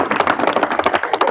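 Audience applause at a community meeting in Jawalpur: a dense, steady burst of many hands clapping, close and loud, filling the whole short moment without any voices.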